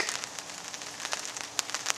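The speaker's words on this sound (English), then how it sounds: "it's already started raining" Rain falls on a tarp strung over a camping hammock during a storm, a dense close patter of drops with a few sharper taps standing out, steady throughout and without speech.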